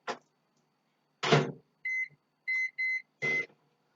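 A kitchen microwave oven gets set: a couple of soft clunks and presses, then three short electronic beeps and a longer final tone, close and clear in an otherwise quiet room.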